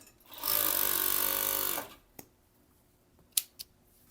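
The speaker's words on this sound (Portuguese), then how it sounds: "eu vou voltar para a máquina com essa peça para passar o elástico agora na cintura" A sewing machine runs a steady burst of stitching for about a second and a half while elastic is sewn onto a bikini waistband, followed by a few sharp clicks and taps.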